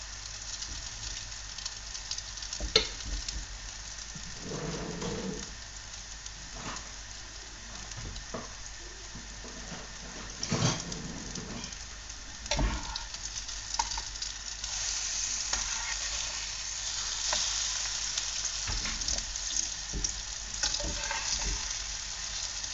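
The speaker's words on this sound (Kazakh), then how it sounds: "Осылай оладьиларды пісіре" Zucchini fritters frying in sunflower oil in a pan, a steady dense sizzle with occasional louder pops and spatters, close and continuous throughout.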